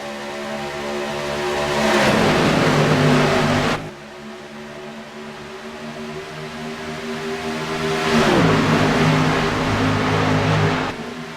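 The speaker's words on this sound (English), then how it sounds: "got to speed these cars up from about 80 miles an hour back up to 195" Race cars in a racing video game at Daytona accelerating back to speed after the pace car pulls off: loud, layered engine drones swelling and rising in pitch twice, each peak followed by a shift-like dip.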